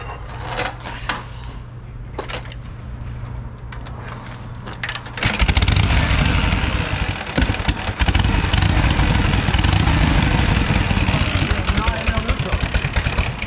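A Harley panhead-shovelhead motorcycle engine idles low and uneven at first, then revs loud and rough and keeps running close by, with people talking over it.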